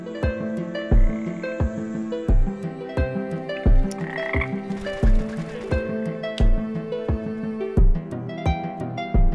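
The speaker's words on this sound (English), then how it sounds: "Just a quick trailer for Frog Monster, a voxel first-person shooter that has you taking on all sorts of creatures like giant snakes and frogs." Frog creatures croak in the voxel first-person shooter Frog Monster, loud rhythmic croaks landing about once a second over a droning, chiming game soundtrack, with a brief noisy swell midway.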